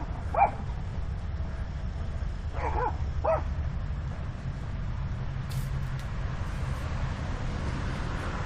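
A dog on a walk at a park gives a few short, sharp barks and yips, distant-sounding over a low outdoor rumble, followed by quieter ambient noise.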